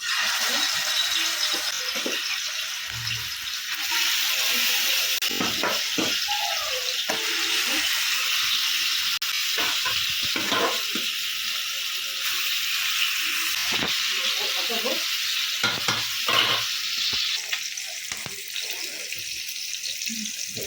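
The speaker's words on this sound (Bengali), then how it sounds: "তেল গরম হয়ে গেছে, ভালো করে তেলটা গরম করে নিলে মাছটা লাগে না।" Fish fries in hot oil, a broad continuous hiss and crackle filling the clip, close and steady, with scattered clatters and knocks of handling in the pan.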